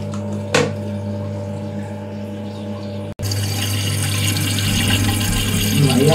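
Water refills a Geberit toilet cistern after a ball cock repair, a steady rushing hiss of filling water with a brief knock partway through, then the flow continues and grows slightly louder.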